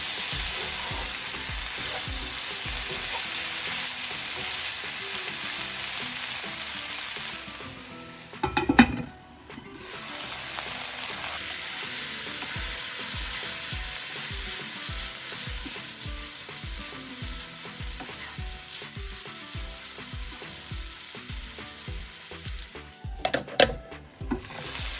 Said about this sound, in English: Just give that a stir and then let it cook.